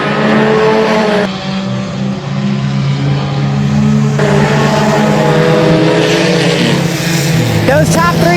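Eco stock cars racing around an oval track, loud engines droning and shifting pitch as the pack passes close by, with a commentator talking over the roar.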